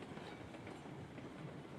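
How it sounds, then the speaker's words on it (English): A train in the video game Railroads Online rolls along steadily, with a continuous rumble and faint rhythmic clatter of wheels on track, quiet and even throughout. "Now the train will gradually pick up speed"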